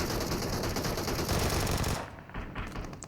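Rapid automatic fire from an Uzi submachine gun in a video game, a dense unbroken burst for about two seconds that then drops to scattered quieter shots and background game noise.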